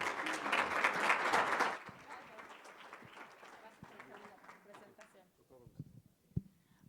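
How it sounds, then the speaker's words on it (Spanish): An audience applauds after a talk at an education conference in Mexico, a burst of clapping that fades within a couple of seconds, followed by quieter scattered sounds and a voice. "Demos un fuerte aplauso."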